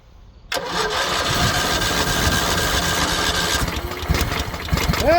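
A Craftsman LT2000 lawn tractor engine cranks and turns over after a jump start, a sudden loud mechanical churn that runs on steadily and close, with rattles and knocks.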